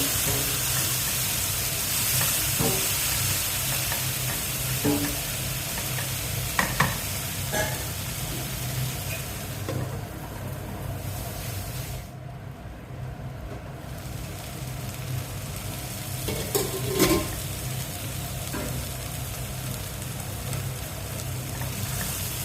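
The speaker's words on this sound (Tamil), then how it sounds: "தீயை லோ ஃப்ளேமை விட கொஞ்சம் கூட வச்சு நல்லா செவக்கிற வரைக்கும் வதக்கணும். அடிக்கடி கிளறி விட்டுக்கிட்டே இருக்கணும்." Spicy jackfruit chukka sautés in a pan over a flame turned slightly above low, a continuous frying sizzle broken by occasional scraping and clinking as a spoon stirs it, with no speech.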